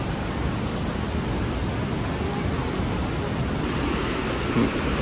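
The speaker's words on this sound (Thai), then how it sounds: "นี่ครับน้ำตกเหวนรก" Haew Narok waterfall in Khao Yai National Park, Thailand, roars as a loud, steady broadband rush of falling water, constant and close with no breaks.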